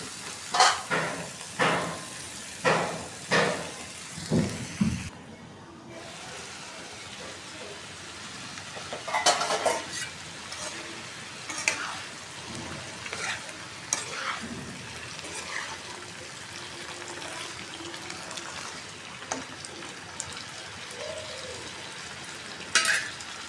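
Onion frying on a stove with a little turmeric and salt, for a mustard-oil curry, gives a steady broadband sizzle throughout, with a string of sharp stirring knocks near the start and scattered clatter later.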